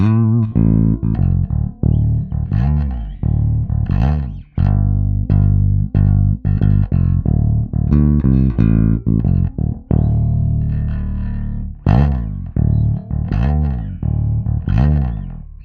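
Solo bass guitar line played slowly in isolation, a steady run of plucked notes with slides, some held and some short, close and prominent with no voices.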